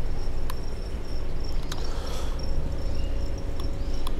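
Live crickets for sale as feeder insects in a pet shop chirp in a faint, high, thin trill that comes and goes over a steady low background hum, with a few sharp clicks and no talk.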